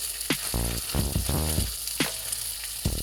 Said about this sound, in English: Turn it back over and let it fry that side.